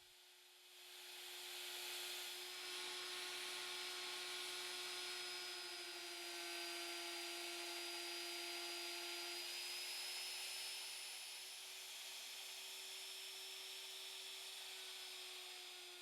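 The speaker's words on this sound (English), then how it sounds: "The 1/2 inch spiral carbide router bit steadily sweeps along the edge of the circle." Steady whine of a router driving a 1/2 inch spiral carbide bit around the edge of a wooden circle for a round dining table, a loud sustained tone rising at the start and holding evenly.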